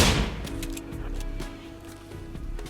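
Gunfire from a hunt in the Rimworld video game: several quick, sharp shots and crackles over a low steady drone, moderately loud and close, with no talk.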